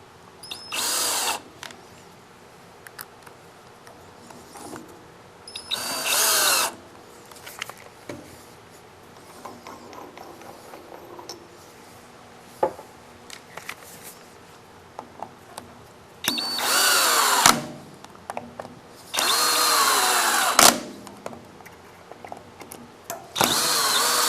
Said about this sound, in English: I usually like to just start the screws and then remove the Center Master to finish tightening the screws up.